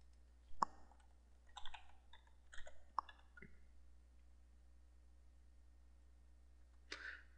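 Password typed on a computer keyboard, a few sparse soft clicks and short clusters of keystrokes in a quiet room, close and faint.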